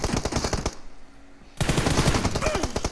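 Automatic gunfire in the mobile battle royale game PUBG, loud rapid bursts of shots that stop for about a second and then resume, close and dominant with no talk.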